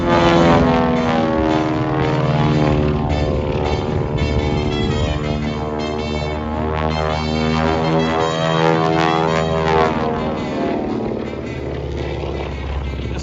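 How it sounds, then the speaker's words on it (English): Beechcraft Twin Beech aircraft performing at a Punta Gorda, Florida air show, its twin propeller engines giving a loud, close, steady droning roar with rich throbbing harmonics throughout. "Do not take your eyes off this big behemoth of a Twin Beach."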